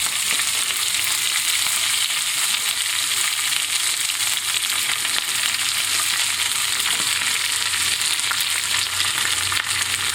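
Spinach and roasted garlic fry in a hot pan, giving a steady, dense sizzle that runs without a break and with no voices.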